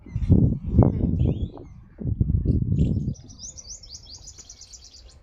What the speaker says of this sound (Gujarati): ચકલાનો ઝીણો ઝીણો અવાજ આવે